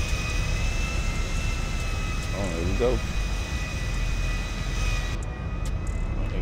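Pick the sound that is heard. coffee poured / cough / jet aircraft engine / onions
jet aircraft engine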